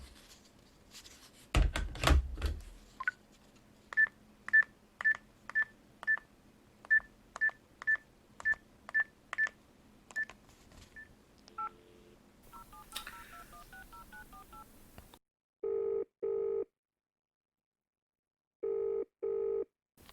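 A landline telephone number dialed from a notepad in a house: a short clatter of the handset lifting, then a run of evenly spaced keypad tones, a burst of line noise and beeps, and finally intermittent ringback tones, all close and otherwise quiet.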